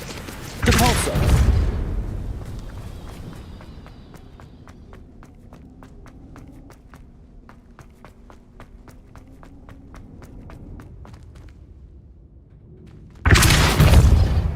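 A spell cast in Hogwarts Legacy, a loud whooshing burst at the start and another at the end, with soft rhythmic footsteps in between.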